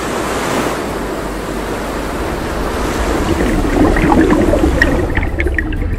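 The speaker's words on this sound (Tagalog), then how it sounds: "isang malaking alon na naman ang lumamon sa kanilang dalawa." Ocean waves crashing and surging at sea, a continuous loud roar of surf that swells stronger toward the end, with no voices.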